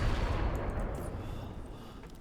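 Airstrike explosions in a first-person shooter, a dense rumbling barrage of blasts and gunfire-like booms rolling continuously and loud throughout, slowly easing in intensity.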